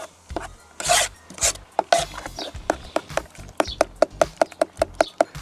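Cold cucumber tarator soup thinned with mineral water gets mixed in a bowl, a spoon knocking and scraping against the sides in a quick, steady run of close taps and rubbing strokes.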